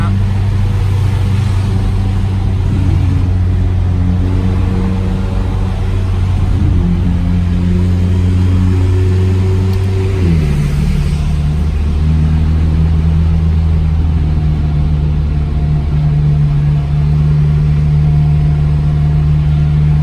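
McLaren 600LT sports car engine revving inside a tunnel, a loud steady low drone that rises in pitch, drops back around the midpoint and settles into a lower hum, with people talking over it.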